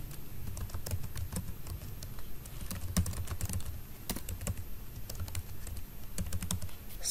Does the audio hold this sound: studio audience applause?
no